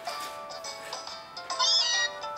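A cat meows a few times in quick succession in a Pokémon Ultra Moon video game, bright and fairly clear, with no other sounds around it.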